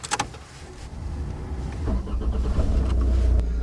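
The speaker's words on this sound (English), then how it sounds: "if you'd like to start up the engine" A car engine starts during a driving lesson, a brief mechanical click and whir rising into a low, steady idle rumble that grows a little louder toward the end.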